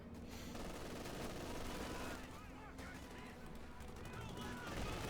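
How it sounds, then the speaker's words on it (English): Machine gun fire from a Company of Heroes 2 battle, with dense bursts of gunfire and explosions filling the whole stretch amid a loud, busy game soundscape. "Panzers are suppressed by the machine guns."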